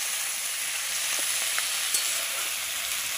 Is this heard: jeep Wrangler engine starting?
no